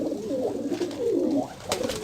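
A Teddy pigeon coos close by in soft, low, rolling calls that repeat steadily, with a faint higher click or two near the end.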